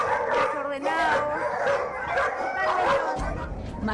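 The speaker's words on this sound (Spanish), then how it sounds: "Más de 20 perros abandonados, sin comida, sin agua, en este ambiente" More than twenty abandoned dogs crowded without food or water bark, yip, howl and whimper together in a dense, overlapping chorus, loud and close, with a voice talking underneath.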